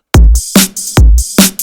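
A programmed drum beat: heavy kick hits paired with bright snare or clap hits, two bars of a steady pattern, loud and dry.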